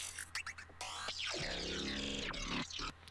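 A glitchy electronic sound effect from a track, with rapid stuttering bursts and sweeping pitch dives over a steady low bass, loud and continuous for about three seconds with no talking.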